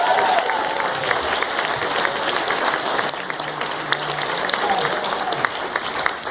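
A convention audience claps steadily through a closing ceremony, with a broad, sustained wash of applause and scattered voices and whoops mixed in underneath.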